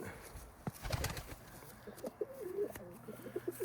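A blue bar white flight pigeon cock bird coos nearby, a series of low warbling calls in the second half after some brief clicks and rustling.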